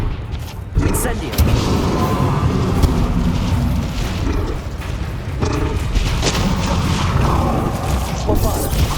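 In Hogwarts Legacy, the Incendio fire spell is cast during a busy spell battle, loud booming blasts and crackling impacts following one another in a dense, continuous barrage.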